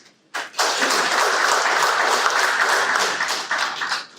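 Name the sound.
audience applause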